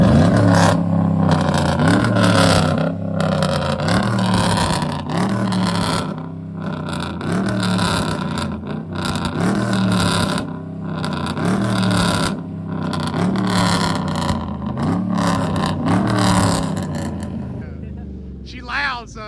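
Lifted pickup truck at a truck meet in Jackson, Tennessee revs hard in repeated loud surges, close and roaring, with people talking throughout.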